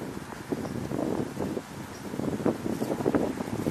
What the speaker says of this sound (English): breezy, windy